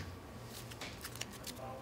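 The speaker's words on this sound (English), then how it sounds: "Shuffle my deck." Magic the Gathering cards shuffled at a Friday Night Magic tournament table, a short run of soft riffling snaps and rustles over quiet room hum and background murmur.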